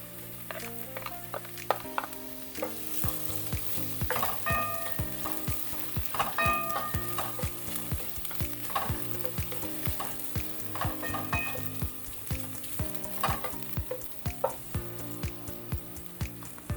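Garlic fries in a pan for a fish dish, sizzling steadily and loudly while a utensil stirs and scrapes, giving repeated sharp clicks and knocks against the metal, with no talking.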